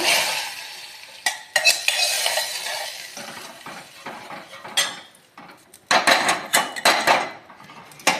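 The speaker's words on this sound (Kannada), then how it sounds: "ಈ ಒಗ್ಗರಣೆಯನ್ನು ಇದಕ್ಕೆ ಹಾಕ್ಕೊಂಡ್ಬಿಡುವ." Hot tempering with cumin is tipped into a pot of pepper rasam, followed by repeated scraping and clinking of a metal spoon stirring against the pot in uneven bursts, with no talking.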